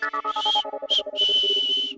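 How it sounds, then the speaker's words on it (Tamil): A clear, shrill whistle sounds in several quick bursts and then a longer held tone, loud and close, with no talking over it, in a Tamil TV serial scene. "விசில் கேக்குதா? விசில் ஒண்ணு."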